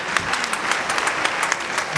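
Audience applause for Mohammad Shah at a World Teachers Day children's expo in Karachi, a brief, dense crowd clapping with sharp individual claps standing out.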